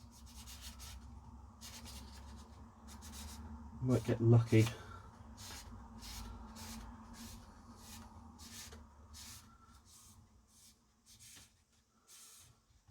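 Paper is rubbed around inside a Philips Matchline VR6860 video recorder during an overhaul, giving repeated rhythmic scraping strokes with a louder rustling burst partway through, and someone speaks at moments.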